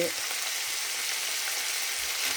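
Egg and carrot stir-fried in a pan give a steady, fairly loud sizzle that holds without pause, with faint scraping of the utensil now and then and no talk.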